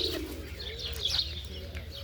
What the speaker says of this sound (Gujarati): કબૂતર હવે આવી ગયા છે બધા